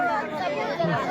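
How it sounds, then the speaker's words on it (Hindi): A large crowd gathered at a fire in a settlement in Muzaffarpur murmurs and chatters in a continuous, close babble of many overlapping voices. "कितनी तादाद में यहाँ पर भीड़ लगी हुई है"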